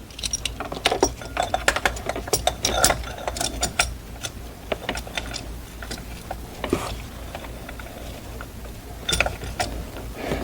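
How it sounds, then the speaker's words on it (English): Ratcheting and clinking of hand tools tightening the water pump pulley bolt on an Audi Q7, a string of close mechanical clicks and metallic ticks in uneven bursts, with no talking. "So we're gonna hold the pulley so we can tighten the pulley bolt."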